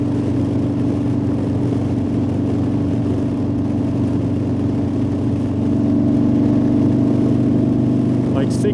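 A motorcycle engine drones steadily while riding at around 65 mph, a close, constant hum with heavy wind rush, slightly louder in the last few seconds.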